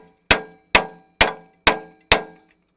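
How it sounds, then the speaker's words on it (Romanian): A hammer strikes a steel pin five times at an even pace while assembling a 4x4 mini tractor, each sharp clang ringing briefly before dying away, loud and close with silence between blows. "Batem ușor cu ciocanul în bolț până când acesta ajunge în poziția corectă."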